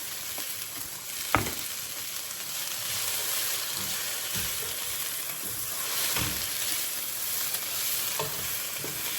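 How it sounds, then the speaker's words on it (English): Bacon sizzling as it fries in a pan, a steady bright crackle of fat spitting throughout, broken by a few sharp pops and faint utensil taps, with no talking. "And I'm gonna add my bacon."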